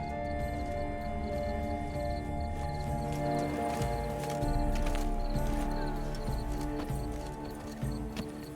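Horse hooves clop steadily in The Witcher 3, with an occasional whinny over a layered game soundscape of tonal music and ambience, no talking.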